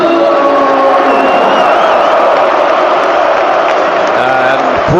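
Football crowd at St James's Park, Newcastle, during a Premier League match against Burnley, roaring and cheering loudly and continuously, with whoops and shouts rising above the dense stadium noise.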